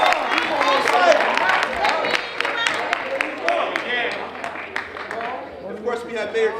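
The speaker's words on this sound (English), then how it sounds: "Give yourselves a round of applause." An audience at a youth empowerment forum claps and cheers in scattered bursts, moderately loud, with voices talking and calling out over it throughout.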